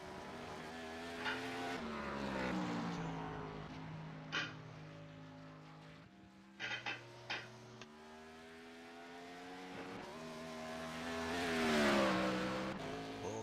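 ARCA race cars lap Watkins Glen in iRacing: engines rev up and down through gear shifts, with a second car passing close around the middle and a loud, high-pitched surge near the end.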